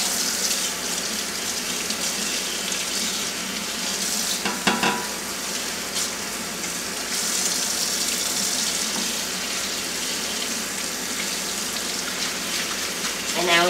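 Running tap water splashes steadily over a plate being rinsed by hand in a sink, a continuous close hiss with a brief clatter partway through.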